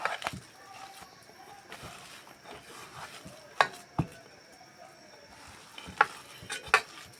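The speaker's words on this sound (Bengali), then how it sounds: "এর ফাঁকে আমি আরেকটু মেখে নিচ্ছি" Spinach pakora batter mixed by hand in a bowl gives soft, quiet squelching and stirring with a few sharper clicks scattered through, while a faint voice murmurs in the background.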